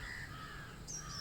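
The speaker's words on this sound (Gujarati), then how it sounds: "અમારે કાગડા બોલે છે" Crows caw outdoors in a village in the early morning, a short harsh call rising near the end over steady background hiss, with no talk.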